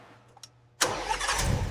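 A Toyota Corolla engine under restoration fires on the first try, a sudden loud catch after a quiet start with a couple of faint clicks, then a steady rough idle close by.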